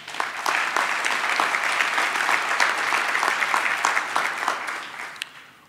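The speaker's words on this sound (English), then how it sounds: "give them a big round of applause." Large audience at a VUT Secunda Campus graduation ceremony in 2018 applauds in a dense, steady wave of clapping that holds for several seconds, then starts to thin near the end.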